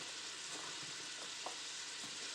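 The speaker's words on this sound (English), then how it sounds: "I just wanted to get my onions translucent" Onions frying in a pan until translucent, a faint steady hissing sizzle with a few light stirring clicks, heard close and quiet.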